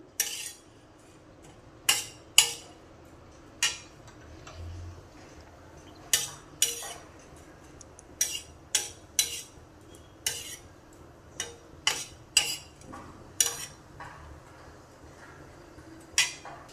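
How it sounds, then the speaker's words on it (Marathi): Dried javla shrimp roasting on a hot tava, stirred with a metal spatula that gives sharp, irregular clinks and scrapes against the pan, fairly close and alone over a faint background. "तवा तापत ठेवलेला आहे त्यामध्ये आपण जवळा जो आहे तो टाकून घेऊयात पहिला जवळ जो आहे तो भाजून घ्यायचा"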